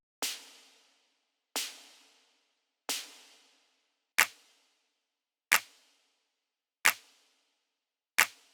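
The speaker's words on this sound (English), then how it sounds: "This first one I just used as an airy layer for the clap." Seven sharp, airy clap hits played one at a time at a steady interval, the first few with a longer breathy tail, the rest tighter.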